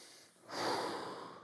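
A deep inhalation during a mobility exercise, one long airy breath swelling in after a brief pause and holding steady, close and soft, with no talking over it.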